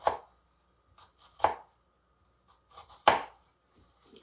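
A knife chops vegetables on a cutting board, three sharp, distinct strokes spaced about a second and a half apart, each followed by small lighter taps, close and clear with no talk.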